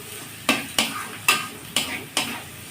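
Turmeric powder is stirred into hot spiced oil for mango pickle, five distinct scraping strokes at an even pace over a faint background sizzle, close and clear with no voices.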